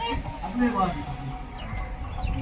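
Chickens cluck softly nearby inside a backyard coop while a person talks over them, with a few higher chirps toward the end.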